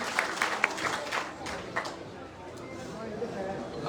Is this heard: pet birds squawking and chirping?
no